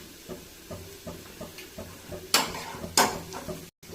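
A spoon stirs red chili powder into spices frying in a pan, with soft rhythmic scrapes and taps over a quiet sizzle, then two louder sharp clatters near the end.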